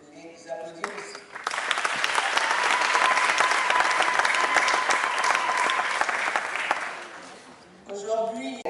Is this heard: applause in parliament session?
yes